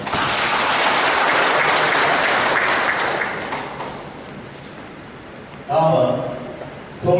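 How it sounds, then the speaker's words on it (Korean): An audience applauds at a Korean advisory council launch ceremony in a city hall, with loud sustained clapping for about four seconds that thins out, then a voice speaks over the hall. "많은 박수 부탁드립니다"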